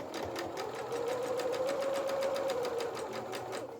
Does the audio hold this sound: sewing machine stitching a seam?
yes